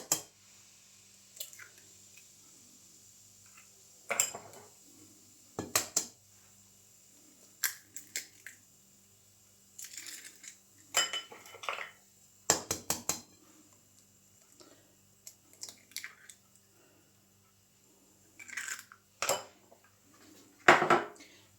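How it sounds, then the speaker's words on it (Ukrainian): Three eggs are cracked into a bowl for a layered honey cake batter, giving scattered sharp taps and clinks against the dish with soft squishy pauses between, close and quiet with no talk. "Тут вбиваємо три яйця."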